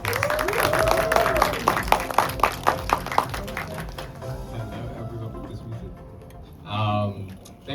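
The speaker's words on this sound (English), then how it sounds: "give him a round of applause" Enthusiastic audience applause at a film media preview screening, a dense burst of clapping for about four seconds that thins into scattered claps and fades, with a brief voice near the end.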